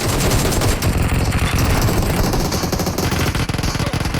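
Rapid automatic gunfire from PUBG Mobile, loud and continuous, with dense bursts and overlapping shots that fill the whole stretch without a break.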